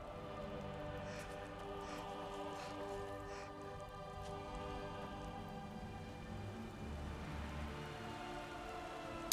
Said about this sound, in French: il pleut, on va être tout mouillé